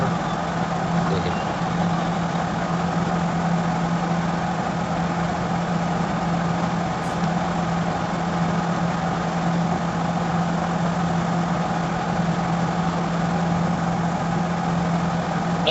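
A vehicle engine, the emergency pickup in PUBG Mobile, runs in a constant droning hum that holds steady and fairly loud for the whole stretch, with no other sounds breaking through.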